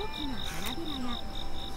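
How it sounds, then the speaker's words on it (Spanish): An oriental cicada sings in the video game Shin chan: Mi verano con el profesor, a steady pulsing insect chirr repeating in even beats over a dense background, with a faint voice-like tone drifting beneath. "Cigarra oriental, le gusta mucho cantar."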